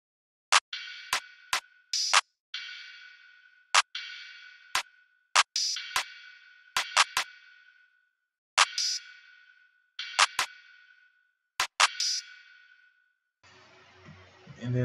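An FL Studio beat built from claps and open hi-hats, sharp clap hits punctuating hissing hi-hat swells in a steady loop, loud and close, ending in a brief noisy burst.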